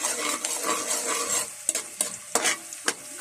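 Sautéed mix being stirred into a pot of boiled mung beans, with a steady sizzle and wet scraping strokes, followed by several sharp, close clinks and knocks of a spoon against the pot.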